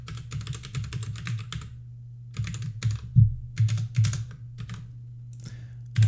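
Login credentials typed on a computer keyboard in separate bursts of quick, close key clicks with short pauses between them, over a steady low hum.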